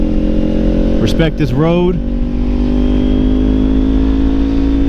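Motorcycle engine humming steadily while riding on a road in Suches, Georgia, a constant mid-pitched drone with someone speaking briefly over it.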